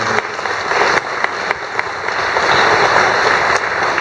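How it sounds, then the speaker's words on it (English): Audience applause for a panel of speakers at an evening public talk on transportation and bike lanes, a steady, fairly loud wash of many hands clapping that holds for about four seconds. "Please give them a round of applause."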